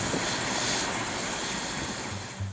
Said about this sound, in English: The MQ-8C Fire Scout, the Navy's newest unmanned helicopter,